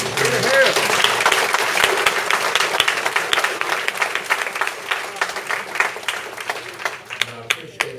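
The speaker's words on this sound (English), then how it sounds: "I'd like to give a round of applause to Bob for putting this together." Audience applause at a civic association gathering, full at first and gradually thinning to scattered individual claps, with some voices mixed in underneath.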